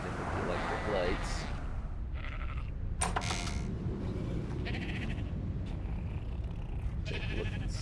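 Sheep bleat in the video game ARK: several bleats rise over a steady, noisy in-game ambience, with short bright bursts scattered through the scene.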